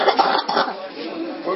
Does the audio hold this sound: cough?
yes